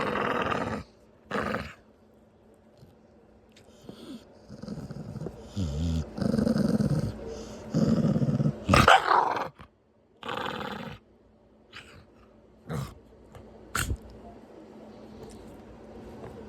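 A chubby dog growls and grumbles in several rough, drawn-out bursts while being handled up close, with quiet gaps between, and a person's voice speaks briefly in between.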